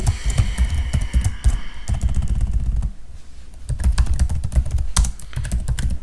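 Rapid typing on a computer keyboard while writing PHP and HTML code: dense, close clicking keystrokes in quick bursts, with a short pause partway through before the clatter resumes, and no talking.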